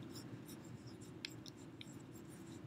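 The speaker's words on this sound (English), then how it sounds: "Now, on the top, right here, I'm going to write" A pen scratches across paper as a word is written on the top of a stapled paper foldable, a quiet, soft scraping with a few brief strokes over a low background hum.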